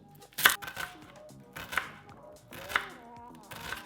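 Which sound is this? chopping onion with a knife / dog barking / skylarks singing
chopping onion with a knife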